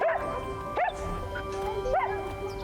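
A dog yips and whimpers in short high bursts, about three close, fairly loud calls spread over a few seconds, alone without talk.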